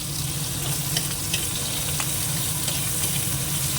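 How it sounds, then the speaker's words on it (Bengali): Chopped onion, tomato and eggplant frying in oil in a pan, a continuous close, even sizzle with occasional stirring scrapes and no talking. "তেল দিয়ে দিয়েছি পেঁয়াজ কুচোনোটা দিয়ে দিলাম আগে এবার এই টমেটো আর বেগুনটা দেবো"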